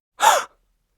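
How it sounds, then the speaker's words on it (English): A single short, sharp gasp, a quick close intake of breath heard alone and followed by silence. "That's right. Gasp."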